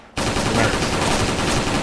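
A G36C machine gun fires in the Special Force online shooter, a loud, dense, continuous burst of automatic gunfire that starts abruptly and fills the clip.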